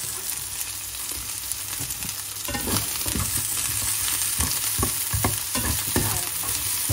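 Onion sautéing with celery and carrots in a stir-fry pan, a steady frying sizzle broken by repeated scraping stir strokes that grow busier and louder partway through, with no talking.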